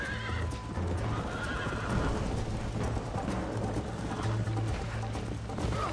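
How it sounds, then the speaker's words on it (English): Horse in the John Marston western video game, whinnying loudly as its hooves clip-clop in a fast steady gallop, close and continuous for several seconds over a low rumbling background. "I was being a bit mean to my horse."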